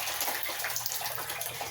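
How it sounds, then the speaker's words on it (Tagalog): Water pours into a drum for mixing with fertiliser, a steady, broad splashing rush that stays even and continuous, fairly close, with no voices. "Ayan na yung drum ko. Nilalagyan ko na ng tubig."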